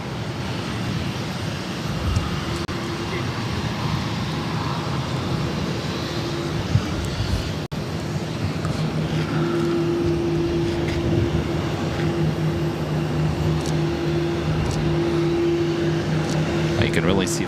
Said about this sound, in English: this is Korean Air Flight 92 taking off to Seoul on the 777-300ER